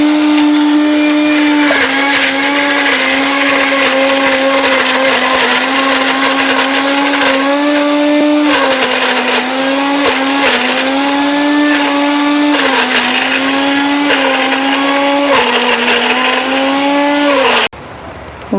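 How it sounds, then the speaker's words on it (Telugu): A mixie grinding coconut to a fine paste for sweet vadas: a loud, close motor roar that dips and rises in pitch as the load shifts, running about seventeen seconds before cutting off abruptly near the end. "కొబ్బరి మెత్తగా పట్టుకోవాలి."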